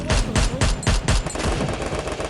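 Rapid automatic gunfire from the video game Free Fire, a loud close burst of repeated shots in quick rhythm lasting the whole moment.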